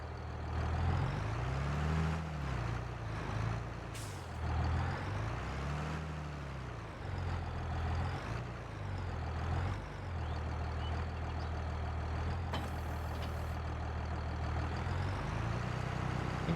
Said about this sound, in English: get the John Deere fired up